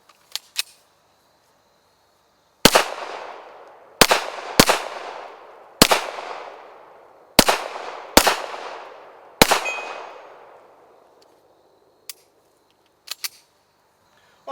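Seven loud, sharp pistol shots from a Beretta 92 fired at zombies, spaced irregularly over several seconds, each leaving a long ringing reverberant tail, followed by a few faint clicks.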